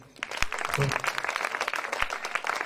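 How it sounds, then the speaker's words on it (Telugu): A church congregation claps together in a dense, steady burst of applause at close range, with voices mixed in. "కొట్ట చప్పట్లో."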